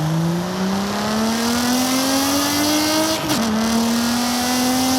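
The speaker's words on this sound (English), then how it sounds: "the E46 M3 in this game, yeah, sounds stupid" A BMW E46 M3 in Forza Horizon 5, its straight six giving off a V6-like tone, revs loud and close with a steady note that climbs gradually, dips briefly near a shift, then carries on, with no voices.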